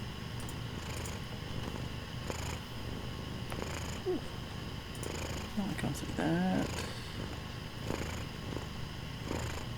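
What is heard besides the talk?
cat purring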